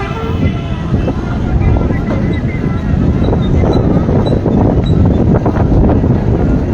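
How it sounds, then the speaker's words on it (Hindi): Strong wind in Taunsa Sharif, Pakistan, roars steadily against the microphone throughout, a constant low buffeting rush with no break. "आज काफ़ी मौसम ठीक है, तेज़ हवा है।"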